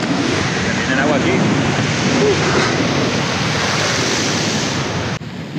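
Ocean waves surge into sea caves along the coast of the Gandoca-Manzanillo wildlife refuge in Limón, producing a loud, continuous roar of churning, splashing water with gusty wind noise buffeting the microphone.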